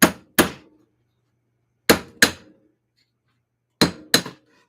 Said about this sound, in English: Just gonna give it a little smacky with the hammer